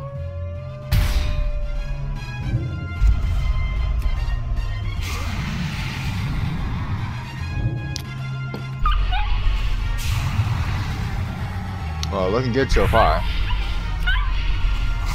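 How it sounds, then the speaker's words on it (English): A small corgi battle pet yaps and whimpers in squealy, high bursts during a World of Warcraft pet battle, with game effects and crashes around it and someone talking over the top. "Such squealy little dog."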